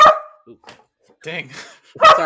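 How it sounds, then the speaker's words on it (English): A dog barks indoors in a few sharp, loud bursts, at the start and again near the end, with people talking briefly in between. "Hold on, I know he's barking."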